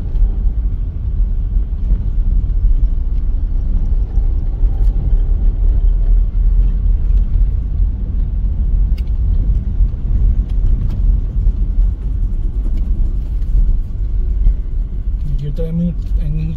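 Street traffic in the small town of Catarina, a constant low rumble of passing cars and engines close by with occasional horn-like tones near the end, while someone talks throughout.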